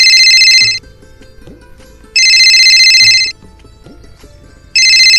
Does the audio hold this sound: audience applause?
no